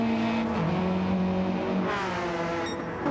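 A race car engine in a manufacturer cup race roars continuously up close, its pitch dipping and climbing as the driver shifts and revs through the run.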